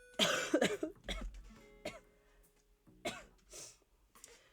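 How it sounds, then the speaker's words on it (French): A few sharp coughs up close, bursting out in a short cluster and then a couple more spaced apart, with quiet breaths between. "j'ai envie de tousser"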